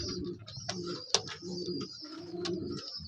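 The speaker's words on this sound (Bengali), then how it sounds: "পায়রা ছেড়ে দেখিয়ে দেবে নরটা।" Kamakar pigeons coo close by, a soft repeated low rolling call in several phrases, with a few brighter chirps and a faint higher tone running through.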